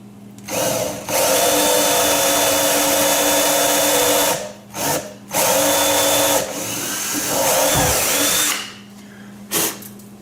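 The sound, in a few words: power drill drilling small hole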